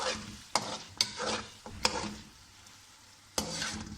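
Goat meat frying in a pot, a steady sizzle with several sharp clanks and scrapes of a spoon stirring against the metal, close and fairly loud, with no talking.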